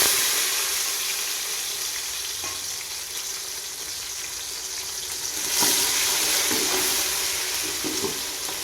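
Steady loud sizzling of finely chopped tomatoes frying in a pan for chicken fry, with occasional stirring clinks and scrapes, up close and continuous.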